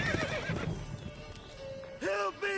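Roach, a horse in The Witcher 3 video game, gives a loud, close whinny at the end, with hooves clip-clopping and someone speaking just before.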